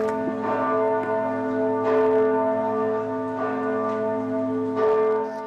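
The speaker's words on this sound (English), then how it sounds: "People paused to listen to church bells marking a day of collective pain" Church bells toll in a day of national mourning, heavy resonant strikes arriving roughly every one and a half seconds, each ringing out and overlapping the last, with no talking.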